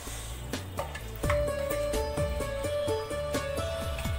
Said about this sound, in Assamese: অকণমান লৰাই দিম বিলাহীখিনি দি।